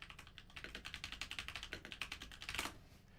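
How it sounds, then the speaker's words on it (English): A loud mechanical keyboard being typed on rapidly, producing a dense, even run of sharp clacking keystrokes up close, with a heavier burst of keys near the end. "This mechanical keyboard is very loud."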